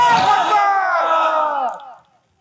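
A large crowd at an Islamic sermon roars a loud, unified shout in answer to a takbir call, voices swelling for about two seconds before cutting off abruptly.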